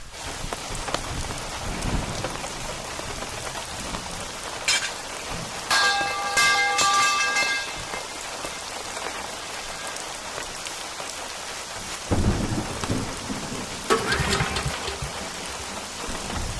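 Heavy rain pours steadily onto surfaces, with low thunder rumbles and a few brief bell-like tones partway through, no speech.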